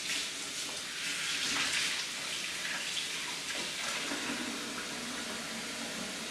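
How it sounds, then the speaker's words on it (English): Hands are washed under running tap water in a kitchen while meat is prepared, a steady, moderately faint rush of water hissing continuously with slight splashing changes. "you want to make sure that you wash your hands thoroughly so you don't contaminate anything"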